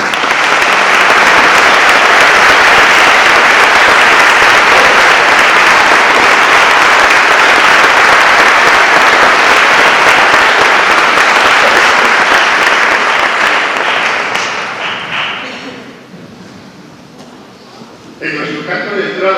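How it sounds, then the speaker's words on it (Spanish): Sustained loud applause from a large audience, steady for about fifteen seconds before fading out, with a brief murmur afterward. "Recibamos con un fuerte aplauso a nuestro director, Carmelo Navarro"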